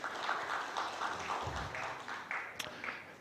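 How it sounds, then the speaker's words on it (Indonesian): Audience applause greeting the Indonesian Minister of State-Owned Enterprises Erick Thohir at a cultural speech event, a steady, moderately distant wash of many hands clapping that holds through the whole moment. "Tepuk tangan untuk Pak Erick Thohir"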